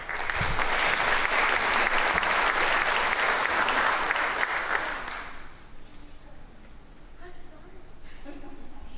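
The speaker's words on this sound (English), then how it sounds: "A round of applause for our seniors." Clapping from a high school audience honoring seniors at a National Honor Society induction, loud and steady for about five seconds before fading, with quieter voices and room noise afterward.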